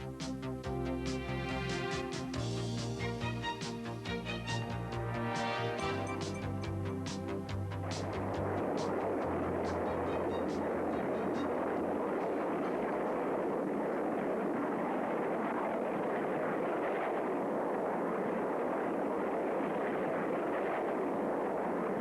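A Tornado jet with its wings swept back for a high-speed dash; music plays at first, then gives way to a steady, loud, broadband jet roar that continues to the end.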